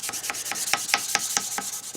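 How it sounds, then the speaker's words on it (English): Hand sanding wood with 400 grit sandpaper on a cherry spice box, near a corner, heard as quiet, rhythmic back-and-forth rubbing strokes at a steady pace. "I know I'm sanding the wrong way."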